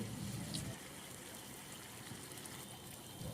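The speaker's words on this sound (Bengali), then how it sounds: "তরকারি সিদ্ধ হয়ে গেছে, এবারে জল দিব বেশি করে।" Water is poured into a simmering fish curry with eggplant and cauliflower, a steady, close liquid gush and trickle that runs briefly without any talking.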